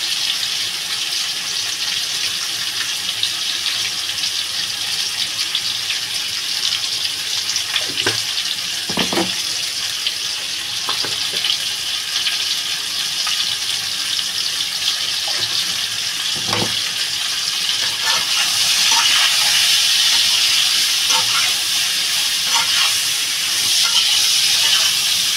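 Potatoes and plantain fry in a pan, with a steady, loud, close hiss of hot oil and scattered crackles that grow brighter and more intense toward the end.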